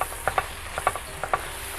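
Spoon stirring goat curry with garam masala in a pan, producing a few soft scraping clicks in an irregular rhythm over a faint, steady background hiss.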